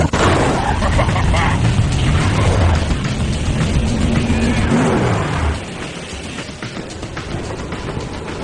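Race cars collide during a brutal race in the film Death Race: a dense, loud roar of engines and crashing impacts that drops to a quieter rumble partway through, with voices over it.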